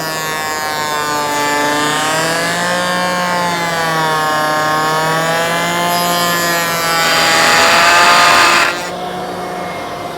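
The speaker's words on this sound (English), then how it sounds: "Plug the power back in, turn on the dust collector, put on my safety glasses, and we're ready to try a cut here." A table saw motor whines steadily alongside a running dust collector, then a brief louder rasp of a test cut through wood before the blade noise drops away.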